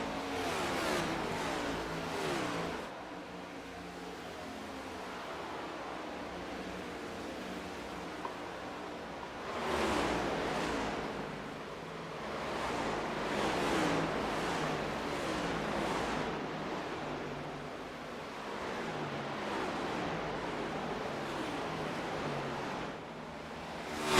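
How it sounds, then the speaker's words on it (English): Race car engines roar past continuously at Indianapolis during a DSA MC 80 race, a dense, wind-like engine rush that swells and fades in waves. "Beautiful engines just roaring by."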